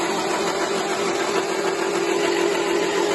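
An old Singer Vogue car engine is cranked over, a steady droning, whirring churn held at an even level for a few seconds without catching.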